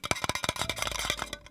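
A small tin can badge pin is handled up close, giving a quick flurry of faint metallic clicks and taps over roughly a second and a half.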